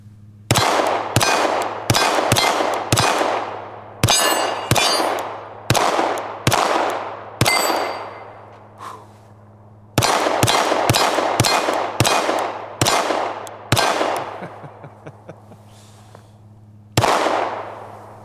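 A Glock V pistol fires in quick bursts of sharp, loud cracks during a 1000-round torture test. Shots come in fast irregular strings with short pauses and a longer gap near the end.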